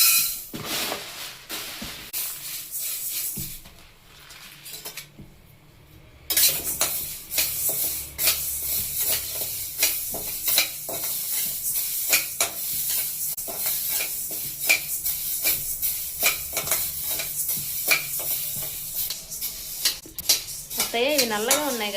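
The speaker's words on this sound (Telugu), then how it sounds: "ముందు మినుములు వేయించుకున్నాను" Black gram (urad dal) being dry-roasted and stirred in a pan makes steady scraping, rattling and clinking as a utensil works through the grains, close and continuous, with a short quieter gap early on.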